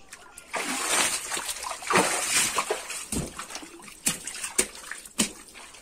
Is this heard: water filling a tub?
yes